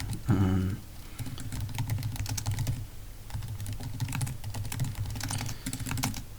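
Fast, uneven typing on a computer keyboard during a Python programming lesson, dense clicks of keys nearby with a brief louder burst at the start and no talk.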